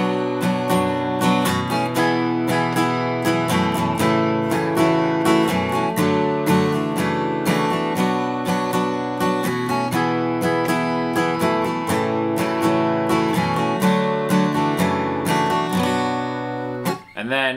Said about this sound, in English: So the verse of the song sounds like this.